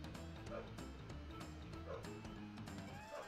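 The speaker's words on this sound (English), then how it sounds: "I apologize for the dogs." Dogs bark and yip in the background, several short repeated barks of moderate level sounding behind a faint indoor ambience.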